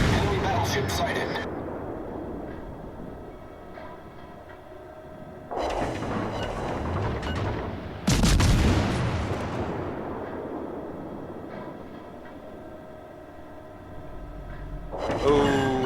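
Naval gunfire from warships in World of Warships Legends: several heavy booming salvos, each a sudden loud blast that rolls off slowly, separated by quieter gaps of game background.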